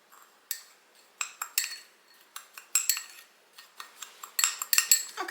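A spoon stirs nutmeg and cinnamon sugar in a bowl, giving light irregular scrapes and clinks against the bowl, close and fairly quiet, with no voices.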